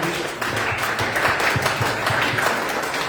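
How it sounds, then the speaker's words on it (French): Audience applause at a church ordination service for a pastor, a steady wash of many hands clapping together for about three seconds with no speech over it. "clap our hands for you"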